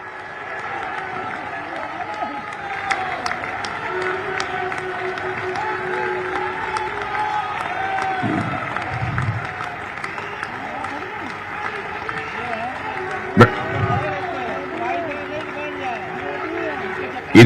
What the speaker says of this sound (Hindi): खड़े होकर और 1 मिनट तक तालियां बजाकर उनका अभिनंदन करें